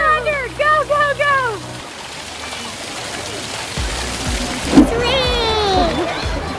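Water splashing under a small waterfall, a steady rushing spray and splatter heard close, with excited voices talking and shouting over it for much of the time.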